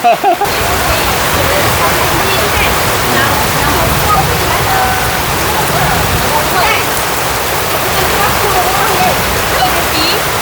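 Heavy rain pours steadily outdoors during a neighbourhood Hari Raya celebration in Puncak Alam, a loud dense hiss filling the whole stretch with no breaks.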